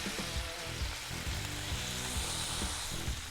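Smash burgers sizzle and fry steadily on a Blackstone griddle as they are flipped, a loud continuous hiss with a few soft scraping knocks from the spatula.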